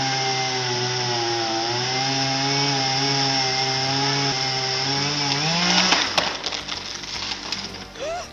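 A chainsaw runs loud and close as it cuts into a tree during trimming, its whining engine pitch shifting steadily before breaking into rough cracking and rattling bursts at the end.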